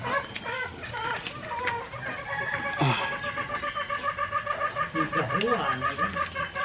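A sick green junglefowl rooster with a rattling, snoring breath makes rough croaking and gurgling sounds close by, with repeated raspy breaths and occasional clucks in a quiet rural setting.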